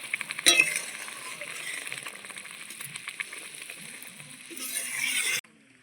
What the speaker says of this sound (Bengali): এবার দিয়ে দিতে হবে চিংড়ি মাছ এবার এই গ্রেভিটার সঙ্গে ভালো করে ফুটিয়ে নিতে হবে